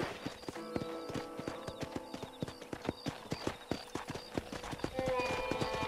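Horse hooves clip-clop at a steady walking rhythm in the video game Red Dead Redemption, each step crisp and evenly spaced, heard under people chatting.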